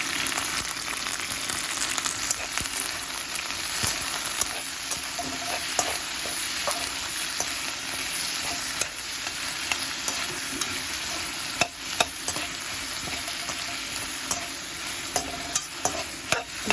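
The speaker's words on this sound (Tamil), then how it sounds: "வெங்காயம், ரம்பையில் மிளகாய் வந்து கொஞ்சம் பாதியாக வெட்டி போட்டுக்கணும். இது நல்லா கொஞ்சம் வதக்கணும்." Onions and halved green chilies sauté in a pan for a spicy country-chicken curry, with a continuous sizzle under repeated close scraping and clinking from a stirring spoon. There is no talk.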